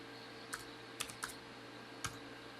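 A few isolated keystrokes on a computer keyboard while a number is entered in Tinkercad, about four sharp clicks spread irregularly over a faint steady hum, close and quiet with no talking.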